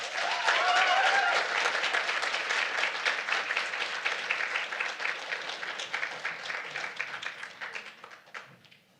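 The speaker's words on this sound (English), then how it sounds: "Can we please get one more round of applause to these 4 amazing poets?" An audience at a poetry reading applauds four poets with dense, steady clapping that thins and fades away over several seconds, with a brief voice near the start.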